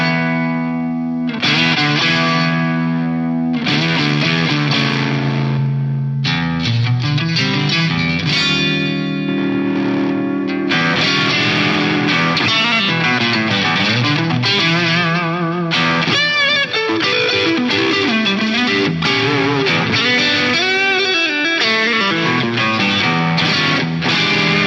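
Electric guitar through a Lexicon MPX G2 multi-effects unit in gain mode with shaped pre-gain, giving a distorted, effects-laden tone; a continuous loud passage of chords and lead lines with no talking.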